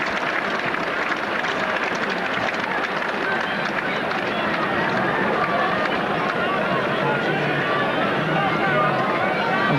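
A large crowd at a Widnes v Bradford rugby league playoff roars steadily and continuously, a broad, loud wash of cheering that stays even throughout.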